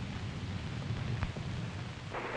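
A steady wash of heavy rain in a bad storm, fairly faint and even, with a brief low rumble of thunder midway and no voices.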